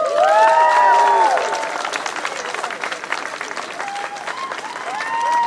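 A crowd greets Toronto's new mayor, Olivia Chow, with loud applause and cheering, punctuated by whistles and whoops; the clapping eases slightly, then swells again with more cheers near the end.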